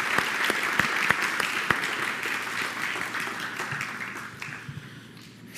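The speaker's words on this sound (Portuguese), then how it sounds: "Uma salva de palmas" A church congregation at a Baptist pastoral ordination service in Mogi das Cruzes claps in a steady round of applause, dense and continuous with a few sharper claps, slowly thinning toward the end.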